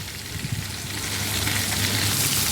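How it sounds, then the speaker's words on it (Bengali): Katla fish pieces frying in mustard oil over a medium gas flame, giving a loud, continuous crackling sizzle close up that swells slightly toward the end, with no voices. "গ্যাসের ফ্লেমটাকে মিডিয়ামে রেখে মাছগুলোকে ভেজে নেবো"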